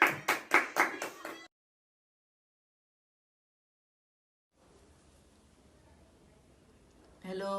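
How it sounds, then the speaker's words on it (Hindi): At a golden 50th wedding anniversary celebration, about six quick, close claps ring out in a short burst, followed by silence and then faint room noise with a voice starting at the end. "तालियां मारो"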